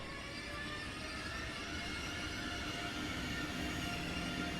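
A Class 430 electric commuter train from Train Sim World 6 runs steadily west of Frankfurt, giving a continuous, even rumble with faint tonal whine and no clear wheel clicks.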